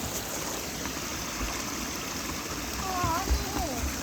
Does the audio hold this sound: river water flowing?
yes